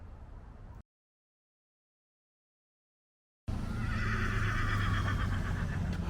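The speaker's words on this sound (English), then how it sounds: "Some horses in there. I hear them talking." Horses whinny from a nearby field, a rising wavering neigh coming after a brief stretch of wind noise and a gap of silence.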